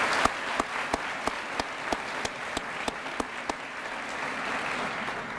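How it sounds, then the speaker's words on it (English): Sparse, sharp handclaps repeat at a fairly steady pace over a diffuse wash of crowd noise, sounding like a small audience applauding. "one more round of applause for our sponsors"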